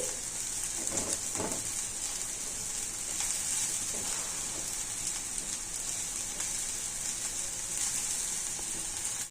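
Sesame seeds and powdered leftover rotis sizzle in hot oil on a stove, a dense continuous crackle with a few brief stirring scrapes.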